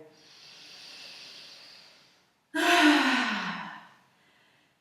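Someone exhales during a gentle yoga flow: a soft, long outbreath, a brief pause, then a louder, close, sighing exhale that fades away, with no words.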